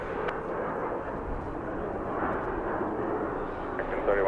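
An American Airlines jet in oneworld livery takes off at LAX, producing a steady, broad, rumbling roar that holds at an even level throughout and is heard from a distance.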